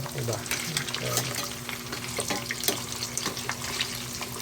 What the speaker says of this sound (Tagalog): Iprito natin.